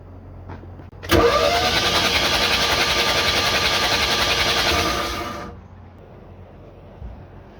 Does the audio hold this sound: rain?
no